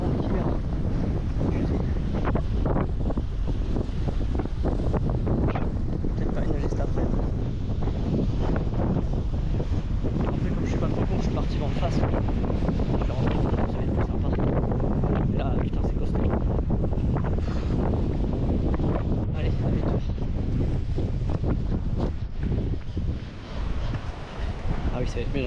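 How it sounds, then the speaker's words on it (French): Strong wind buffets the microphone on a sandy, gusty ride on a cycling training camp in Spain, a constant loud roaring rumble that fills the whole stretch. "il y a tellement de vent que ça balance plein de sable"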